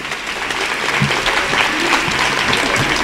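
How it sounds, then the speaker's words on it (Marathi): A theatre workshop closing-ceremony audience breaks into loud, sustained applause, a dense wash of clapping that holds steady for a few seconds. "जोरात टाळ्या वाजू देत."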